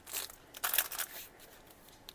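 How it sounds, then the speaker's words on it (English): A dog crunching bites of dry food nearby, a few crisp bursts close together, then quieter. "if you hear crunching, that is not me, that is Molly, my dog"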